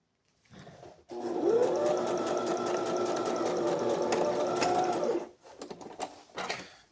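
Sewing machine stitching a zipper onto trousers, a steady fast mechanical whir running for about four seconds after brief starts, followed by a few short stop-start bursts, close and alone.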